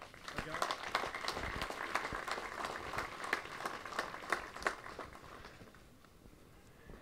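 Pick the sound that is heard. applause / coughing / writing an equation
applause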